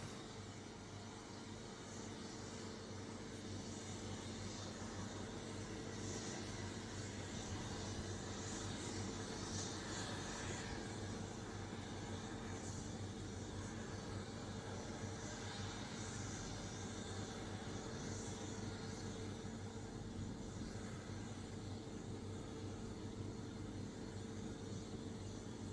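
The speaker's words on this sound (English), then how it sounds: "it is liftoff at T0 for the Bridging the Swarm mission" Electron rocket lifting off on the KAIST Bridging the Swarm mission: a steady, dense broadband roar holds at constant loudness throughout, rumbling low with hissing highs and no pauses.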